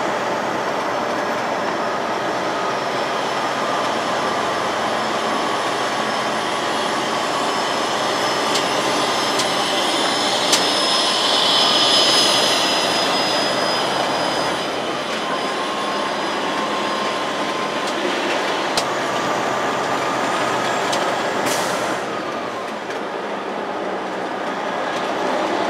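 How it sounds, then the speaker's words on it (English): Steady loud rumble and whine of a train sitting on the track at a rail yard, a continuous mechanical drone with faint squeaks and clicks, no voices. "On a train just sitting on a track right now"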